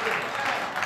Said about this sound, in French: loue le Seigneur par des acclamations maintenant.